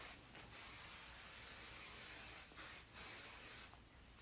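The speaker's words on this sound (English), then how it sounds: "You literally just spray a little bit of this on." An aerosol hair shine spray hisses in a long steady burst, pauses briefly, then sprays again, close and fairly soft.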